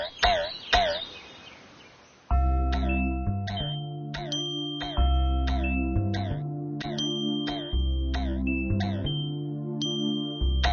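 Bright chimes in an educational math game about shapes ring in a rhythmic pattern of repeated tones over a steady sustained backing, loud and clear, after a short busier passage at the start.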